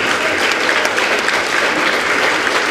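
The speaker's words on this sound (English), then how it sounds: "Please have a round of applause to the winners." An audience at a school World Arabic Language Day event claps for competition winners: dense, loud, continuous applause from a crowd, steady throughout with no pause.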